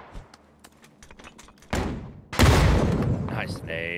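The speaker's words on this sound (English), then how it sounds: "I'm just gonna nade him" A grenade explodes in the PUBG video game: after a few light clicks and a thump, a heavy boom erupts and decays into a long rumbling tail, with a voice speaking near the end.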